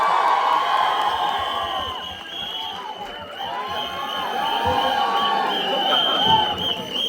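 A fan event crowd for the Thamma film cast in Delhi cheers and whoops loudly for Nawazuddin Siddiqui's arrival, a dense sustained roar with shouts rising and falling, voices mixed throughout.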